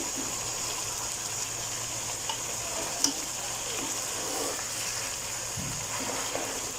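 Mutton frying in a pan with sliced tomatoes gives off a steady, close sizzle that stays even and continuous, with a couple of faint clinks and no talking.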